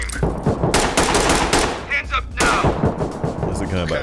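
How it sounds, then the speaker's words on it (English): Rapid bursts of gunfire from the tactical shooter video game Ready or Not crackle loud and close in uneven volleys, with brief gaps between strings of shots. "everyone was running at me while gunfire was going off"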